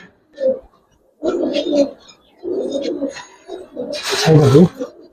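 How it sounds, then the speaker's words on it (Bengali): Silver Giribaz pigeons coo close by in several throaty, rolling bursts separated by short pauses, with the last call loudest; a voice may briefly murmur among them. "এই আরেকটা মাদি কবুতর দেখাই।"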